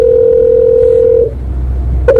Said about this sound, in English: We're gonna call Jolly to get the number because I don't have it